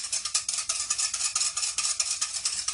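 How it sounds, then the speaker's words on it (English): Rapid whisking of egg yolks in a metal pan, a steady run of quick scraping clinks at a brisk, even rhythm, close and fairly loud with no talking, while making eggs Benedict. "and we're going to whisk that around"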